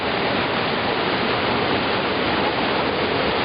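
Kosiv waterfalls and clear mountain streams pour in a loud, steady, unbroken rush of water heard close up, with no voices.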